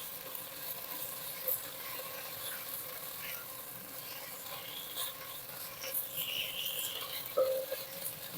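Moringa leaves fry in a pan with a steady, soft sizzle and faint crackles, occasional light scrapes and pops rising briefly, no talking.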